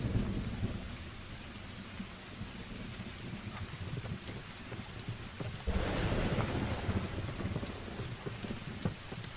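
Rain falls steadily in a dubbed film, a soft continuous hiss with a low rumble beneath, swelling louder about halfway through, with no talking.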